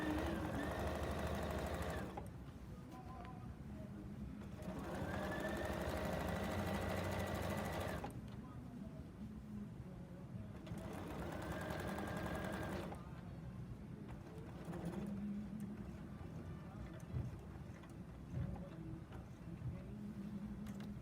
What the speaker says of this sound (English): Raise presser foot, pivot, lower presser foot, continue sewing.